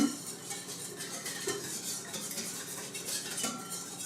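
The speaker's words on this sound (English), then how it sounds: "Maybe I'll stir that again." A spoon scrapes and clinks around a bowl of pumpkin pancake batter with melted butter, a busy continuous stirring with a few louder knocks against the sides.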